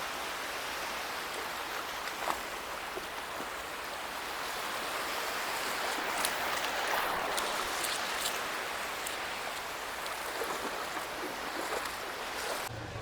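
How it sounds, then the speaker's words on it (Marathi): Strong sea waves roll in at Varsoli Beach in Alibag, a continuous broad roar of surf and wind that swells slightly midway, heard from the shore with no voices. "इकडे पाहू शकता किती जोरा जोराच्या लाटा येत आहेत."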